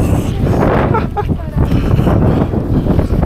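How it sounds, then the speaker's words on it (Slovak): Wind gusting outdoors at a crowded snow maze attraction in Poland, a steady broadband roar buffeting the microphone throughout, with a voice talking briefly underneath. "Trošku tu fúka vietor."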